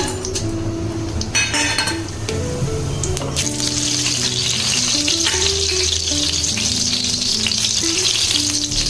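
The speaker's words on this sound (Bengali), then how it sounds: "কড়াটা গরম হয়ে গেছে, এবার আমি দিয়ে দেবো এতে রিফাইন্ড অয়েল। দিয়ে দেবো কিছু খাড়া মশলা" Whole spices hiss and sizzle as they hit hot refined oil in a wok, a loud crackling fry with a few clinks of a utensil against the pan, no talking.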